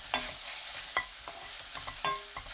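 Celery and shiitake mushrooms are stir-fried in a pan with a steady faint sizzle, broken up by several sharp scrapes and clacks of a utensil stirring against the pan.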